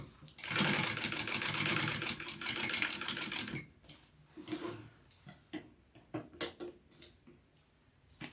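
A sewing machine runs a steady fast stitch along a seam on a fabric cookie carrier bag for about three seconds, then stops and gives a few short bursts and clicks.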